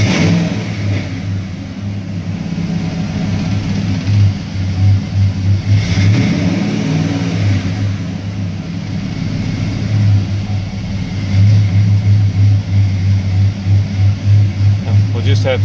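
Engine of a 1996 Ford F150 pickup with a throttle fault runs steadily while driving, a loud continuous low drone that swells and surges in places, with a voice talking over it.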